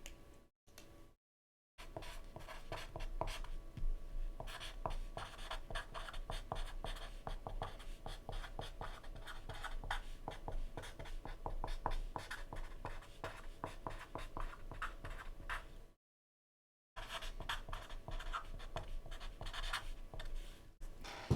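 Pen or marker drawing a graph edge on a writing surface during a math lecture, a long run of quick scratchy strokes, close and steady, briefly pausing twice.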